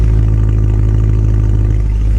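BMW E92 M3 V8 at a cold idle, a loud, steady, even rumble with a low pulsing beat, close up and alone.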